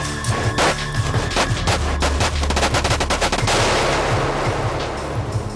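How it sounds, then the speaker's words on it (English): Rapid gunfire bursts crack and rattle in quick succession, loud and close, building into a dense continuous volley like many bullets hitting at once. "The equivalent of 15 bullets hitting simultaneously."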